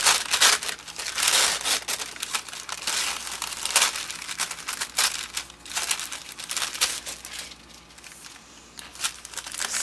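Deli paper is crumpled, crinkled and torn by hand for an art journal cover, giving close, irregular crackling bursts and sharp rustles that continue without pause.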